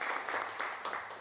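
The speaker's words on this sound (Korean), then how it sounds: "박수 부탁드립니다." Faint applause from a crowd at an art exhibition opening ceremony, soft overlapping claps pulsing in a few waves from a distance.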